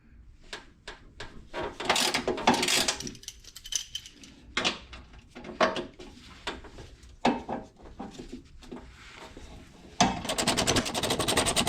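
A ratchet works loose 8mm hex head screws on a Porsche 911 undercarriage during a front suspension teardown, with bursts of rapid metallic clicking, loose clinks and handling noises, and a fast continuous ratchet whir near the end.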